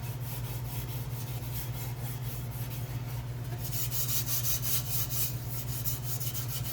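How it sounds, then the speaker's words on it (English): A Scotch-Brite pad scuffs a rusty car part ahead of painting, giving a soft, steady, continuous rubbing that grows slightly brighter partway through. "I just Scotch-Brite it all scuffed up."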